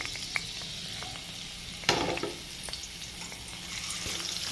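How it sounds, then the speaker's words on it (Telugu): Curry leaves and green chillies sizzle and crackle steadily in hot oil for fish pulusu, with a sharp burst of spitting as the leaves hit the pan and occasional stirring scrapes. "ఇప్పుడు నెక్స్ట్ కరివేపాకు యాడ్ చేస్తున్నానండి"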